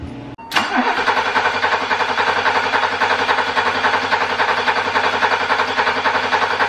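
A BMW E30 325e inline-six cranks briefly, catches and settles into a steady, loud, close idle that runs on with an even rumble.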